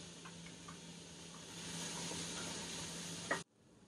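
Chopped carrots, celery and garlic sizzle steadily in a warm soup pot alongside softening onions, a continuous close frying hiss with faint ticks, ending abruptly.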